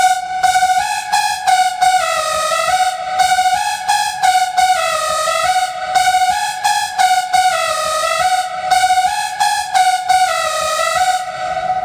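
A buzzy, distorted Eurobeat synth lead in FL Studio plays a bright, rhythmic melody with choppy gated notes and pitch bends, loud and steady over a low pulsing beat.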